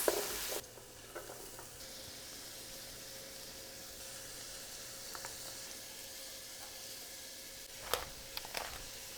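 Mushrooms and breakfast sausage sauté in a pan with a steady, soft sizzle, a couple of brief stirring scrapes near the start and end, close and quiet with no talking.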